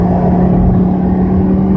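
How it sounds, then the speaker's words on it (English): A car engine on the Monticello race circuit drones steadily and loudly from inside the cabin, holding an even low hum through a smooth shift up to fourth gear and back down to third. "Nice seamless shift up to fourth and back down to third gear."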